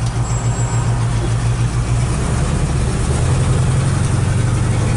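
A 1968 Oldsmobile 442 with a 3-speed gearbox, its engine rumbling steadily at idle with a deep, loud, even growl, close and continuous, with no voices over it.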